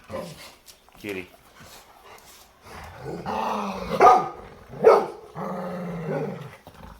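Several dogs bark and growl in a noisy, crowded group on bath day, with sharp loud barks near the middle and end over steady chatter and panting.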